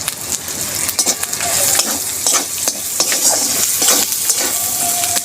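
Slit green chillies hit a hot pan of oil for a yam curry, giving a loud close sizzle with bursts of crackling and the scrape and clink of a stirring utensil, no one speaking.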